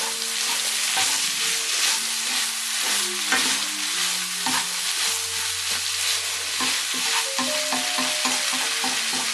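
Food stir-fried in a Chinese wok at home hisses and sizzles steadily, punctuated by repeated scraping and clanking strokes of the spatula, with a soft melodic tune playing in the background.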